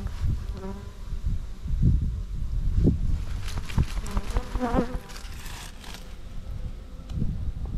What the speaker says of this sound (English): I've got one bee flying around behind me